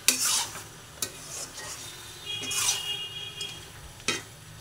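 Fish head muri ghonto fries in ghee while a spoon stirs it. Sharp scrapes and clinks against the pan come at intervals over a soft, steady sizzle.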